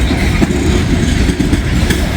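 A loaded intermodal freight train rolls steadily past close by, its wheels clicking in an even, loud rumble that holds without a break.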